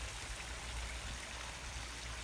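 Water flows steadily in a backyard pond with a UV light, a continuous close rushing and trickling wash at low volume with no talk.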